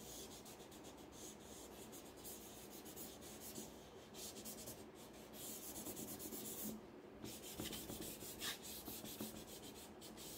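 Tissue rubs over a pencil drawing to blend tones, giving faint, continuous, close scratchy swishing strokes in a quiet room with an irregular back-and-forth rhythm.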